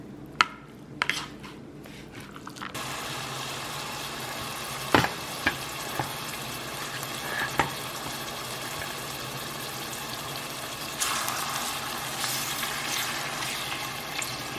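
Chicken frying in a pan as part of a crispy stir fry with heavy whipping cream, a steady low sizzle with scattered clinks and scraping stirs, louder hiss surging near the end.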